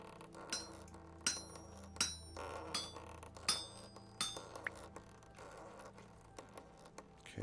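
Nails are hammered at an anvil in the video game Vintage Story: sharp metallic clinks struck in an irregular series of about a dozen blows, ringing briefly over a quiet background.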